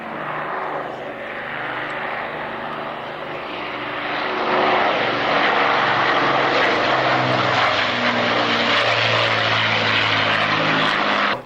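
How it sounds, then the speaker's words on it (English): Propeller warbird of No. 4 Squadron, coded 964, flying at an air display at Duxford in 1998, a steady droning piston engine roar that swells louder midway as the plane passes close overhead, with no talk. "964, which is Johnny Walker, an aircraft of number 4 Squadron"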